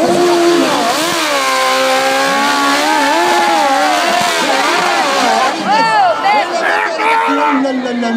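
A car revving hard on a steep French hill-climb course at Munster, the engine note loud and continuously rising and falling over eight seconds, with a crowd shouting and cheering over it.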